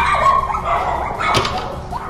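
A rescued dog whimpers and yips close by, with a sharp bark in the middle among high, wavering whines, all fairly loud and continuous.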